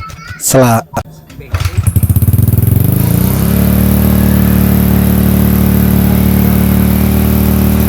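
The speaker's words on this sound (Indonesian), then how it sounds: "mesin langsung hidup" A motorcycle engine starting after a carburetor fuel hose is fitted: a few cranking attempts and a brief voice, then the engine catches with rising revs and settles into a loud, steady idle close by.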